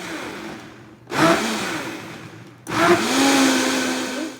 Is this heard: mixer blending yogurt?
yes